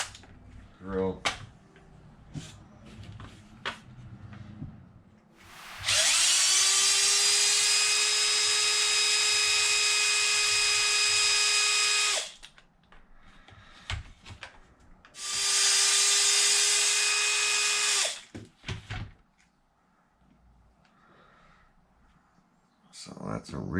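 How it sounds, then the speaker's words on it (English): A power drill works on an Arrma Vendetta RC car while new tires are fitted, running in two long steady whirring bursts of about six and three seconds, close and loud, with clicks and handling noises around them. "Drill."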